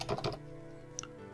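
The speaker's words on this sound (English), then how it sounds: "Then we're going to type in the following command" A computer keyboard is typed on as a command goes into a command prompt: a short close burst of key clicks, then a brief pause and one more faint click.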